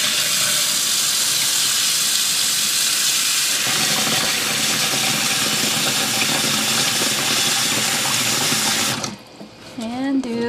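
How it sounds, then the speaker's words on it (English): Water pours steadily in a loud, continuous rush for about nine seconds as buttermilk-clouded rinse water is poured off butter, then stops abruptly, leaving faint clatter and a brief voice. "I'm going to pour it off, add some fresh water."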